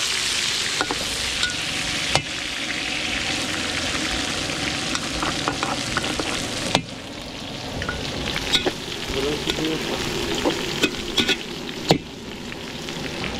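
Garlic and onion sauté in a pan as the base for beef caldereta, a constant loud sizzle broken by sharp clicks and scrapes of a spatula stirring, with no talk.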